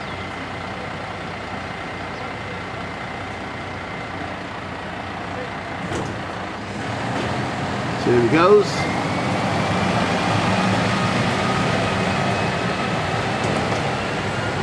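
A garbage truck collecting public waste on a housing estate rumbles steadily nearby, with a brief mechanical squeal and clank midway before the engine noise swells a little; someone talks over it.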